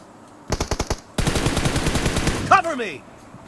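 Automatic gunfire in the mobile game PUBG: a short burst of rapid shots, then a longer sustained volley, followed by a brief sharp voice-like squeal as the firing stops.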